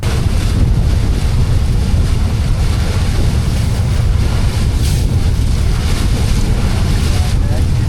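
A boat travels across Tanguar haor, a wetland where boats are the only way to get around, with a steady, loud rumble of motor and water and heavy wind buffeting the microphone throughout.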